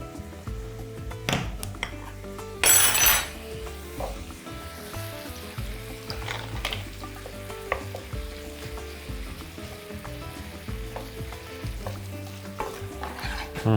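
Butter (about 30 grams) sizzles in a pan while being stirred for an omelette, a steady frying hiss with scraping and a few metallic clinks of utensil on pan, one brief louder burst.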